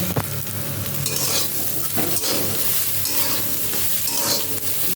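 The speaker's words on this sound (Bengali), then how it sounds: "এবার সয়াবিনটাকে দিয়ে হালকা করে আলুর সাথে ভেজে নেব" Soya chunks tossed with lightly fried potatoes in a hot pan give a continuous close sizzle, with stirring scrapes and occasional clicks of a utensil against the pan, and no voices.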